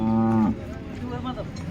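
A cow at a Modnimb cattle market gives one loud, close, sustained moo for about half a second, then a quieter low rumble and scattered market noise follow.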